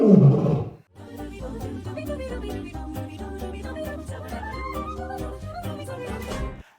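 A loud lion roar sound effect bursts out briefly at the start, then cuts to continuous music.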